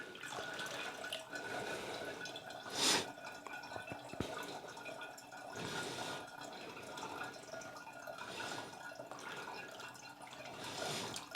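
Colloidal silver liquid drains steadily from a homemade generator batch, a continuous trickling wash with occasional sharper drips, moderately faint and even throughout with no talking.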